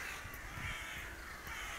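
Several crows caw in a forest, harsh calls at a moderate distance over a steady background hiss.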